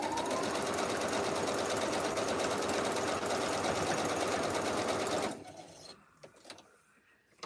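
A sewing machine stitches a Halloween mug rug in one steady, loud, rapid whirring run for about five seconds, then stops abruptly, leaving faint clicks and handling noises.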